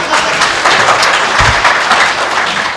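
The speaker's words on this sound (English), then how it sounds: "Let's give him a big round of applause." Conference audience applauding, a broad steady wash of clapping that holds at an even level from start to finish with no voices standing out.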